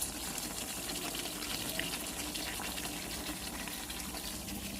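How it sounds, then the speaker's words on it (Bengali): Rice boils in a pot on a home stove, giving a steady, moderately loud bubbling and watery hiss that runs unbroken throughout with no voices. "এই যে ভাত ফুটছে"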